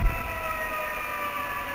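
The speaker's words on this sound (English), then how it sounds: "There's a siren outside my house." A siren wails steadily outside a house, its sustained tones holding moderately loud and even for the whole stretch with a low rumble beneath.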